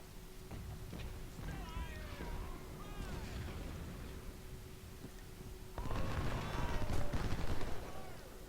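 Musket volleys crackle through the din of a Civil War battle in Ultimate General: Civil War, with infantry trading fire against skirmishers and field guns nearby; scattered shots pop over a steady rumble that swells louder toward the end.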